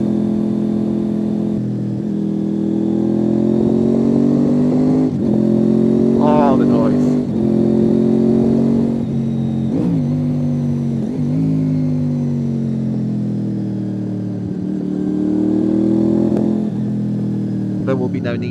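A sports-touring motorcycle cruising along a road, its steady engine drone loud and close with rising and falling revs and gear changes throughout, plus wind rush.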